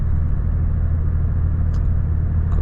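Steady low engine drone and road rumble from a Volvo FH 540 truck cruising nonstop along the Chita–Khabarovsk highway at night, heard from inside the cab, continuous and even throughout.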